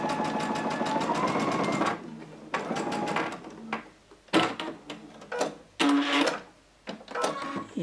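A sewing machine runs stitching quilt pieces for a baby quilt, a loud fast mechanical whir in short bursts with brief pauses and clicks between runs, close up with no talk.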